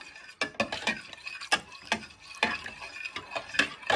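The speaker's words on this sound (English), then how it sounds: "Give them a little stir till they have evaporated." A spoon stirs two beef stock cubes into a pot of boiling water, making quick, irregular clinks and scrapes against the pot. The sound is close and continues steadily with no voices.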